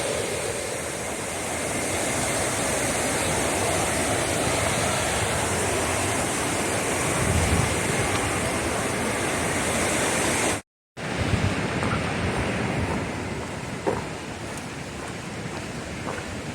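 Rushing river water along the Appalachian Trail in Connecticut, a steady broad roar heard from a short distance, loud and continuous with one brief cut, no voices.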